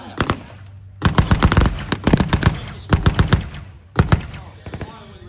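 Tank guns and weapons at a tank weekend event firing in a rapid series of loud, sharp reports grouped into bursts with brief gaps, close and dominant, with a faint voice in the background.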